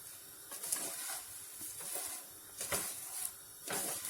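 Pasta toasting in butter in a pan gives a steady close sizzle, with soft swells and stirring scrapes recurring every second or so; no one speaks.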